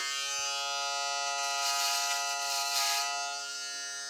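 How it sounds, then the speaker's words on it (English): A HiBig double foil electric razor runs steadily close by, its motor giving a continuous even buzz with a slight swell in the middle before easing off. "As we turn on the shaver"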